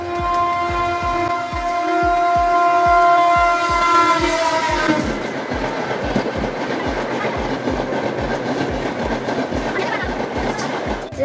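A train passes close by at a level crossing at Pani Tanki, holding up traffic. A loud sustained horn comes first, then a steady, rhythmic clickety-clack of wheels over rail joints goes on throughout.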